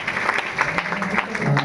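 Audience applause at a talk show, a brisk burst of many hands clapping with a dense, even rhythm, fairly loud and continuous throughout.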